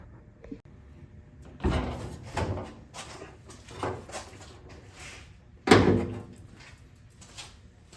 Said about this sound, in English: we're going to open the hood and get down in there